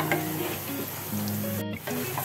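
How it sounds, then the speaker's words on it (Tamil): Ginger and garlic sizzling in hot oil with spices, a close, steady frying hiss with stirring scrapes and a brief clatter near the end, no talking. "இஞ்சி பூண்டு நல்லா ஃப்ரை ஆகணும்"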